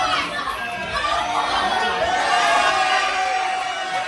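A wrestling crowd at an All Star Wrestling show reacts during a match, a dense, loud wash of cheering, chatter and children's shouts swelling steadily, with no pauses.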